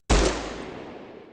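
Calico 100 gun firing in the Fallout Tactics video game: one heavy, punchy blast that rings out with a long, rumbling decay.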